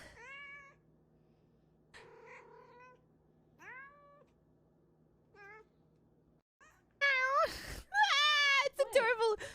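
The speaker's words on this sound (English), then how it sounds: "Kimchi meows just like this" A cat meows several times in short, separate calls with quiet gaps between them, then ends with a louder run of drawn-out, yowling cries, all heard close up.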